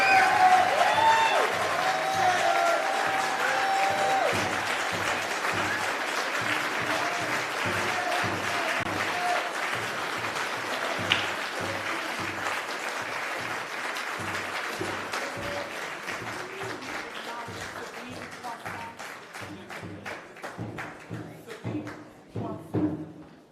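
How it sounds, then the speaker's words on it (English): Sustained applause from a large crowd at a Malcolm X commemoration event, a dense wash of clapping that thins into scattered distinct claps, with faint voices and cheers mixed in. "please give another round of applause for Attorney Benjamin Crump"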